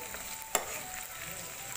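Chicken changezi masala with chopped green chillies frying in a pan: a faint, steady sizzle with one sharp spatula tap, close but quiet.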